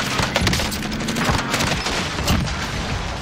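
Rapid gunfire rattles through a Call of Duty: Warzone match, dense bursts of close shots cracking continuously with a few heavier booms in the mix.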